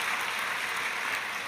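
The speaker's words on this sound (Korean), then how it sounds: "우리 섬겨주신 귀한 분들께 우리 감사의 박수" A church congregation applauds in thanks at a New Year dawn prayer service, a steady wash of clapping that fills the whole short stretch without breaks and stays even in level throughout.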